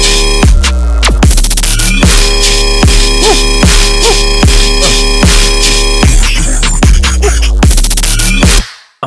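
Heavy dubstep riddim bass layers stacked with a deep sub bass, loud and dense with rhythmic wobbling hits and percussive transients repeating through a steady beat before cutting off abruptly at the end.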